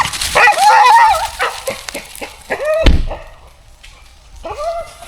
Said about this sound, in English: There go the mad dogs.